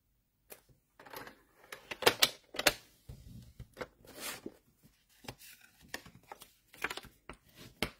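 Paper being folded and creased by hand to make a box, a run of crisp crackling handling sounds and sharp presses, close and fairly quiet, with short pauses between them and no talking.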